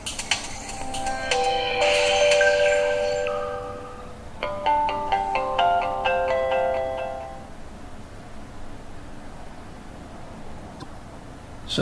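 A Samsung Galaxy S Fascinate smartphone plays its bright startup chime while rebooting after a factory reset, two ringing melodic bursts over faint background hiss, then quiet.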